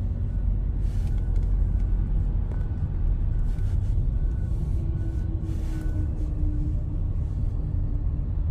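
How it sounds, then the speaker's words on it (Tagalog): Steady low road rumble of slow, congested traffic after work, with idling cars and heavy vehicles packed close, a faint air-brake hiss and a brief whining tone rising above the continuous drone. "ang haba ng traffic"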